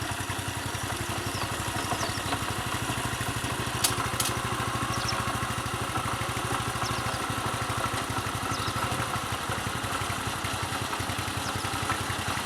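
A groomer's small petrol engine idles steadily with a rapid, even putter and mechanical clatter, holding a constant level close by throughout, with no voices.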